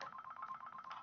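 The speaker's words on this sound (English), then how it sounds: "And then the phone rings." A telephone rings indoors at home, a short burst of rapid electronic trilling pulses, moderately close and alone, with no talk over it.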